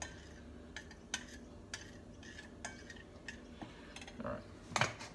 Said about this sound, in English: So I'll just whisk that up.